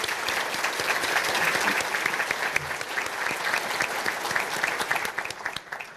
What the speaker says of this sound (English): May I get a round of applause for all of the sponsors.